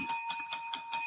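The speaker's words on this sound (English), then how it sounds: "That Lambo bell is going off." A bright bell rings in quick repeated strikes, about five evenly spaced dings, each with a sustained metallic ring, with no talking.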